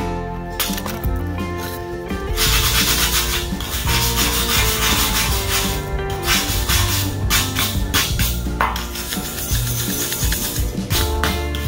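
Weld spatter scraped and ground off the steel of a sawmill trailer, a continuous close rasping and rubbing with brief pauses and small metallic clinks, no talk.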